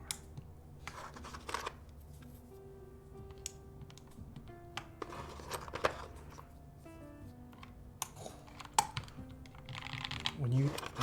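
Keys on a mechanical keyboard with brand-new GMK keycaps, in a black polycarbonate Jaguar build, clack in scattered bursts of sharp taps over a faint background hum, with occasional soft speech.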